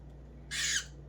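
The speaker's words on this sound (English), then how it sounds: "This is a female downy woodpecker" A single short, harsh squawk from an injured female downy woodpecker rings out once, close and fairly loud, against a quiet hum.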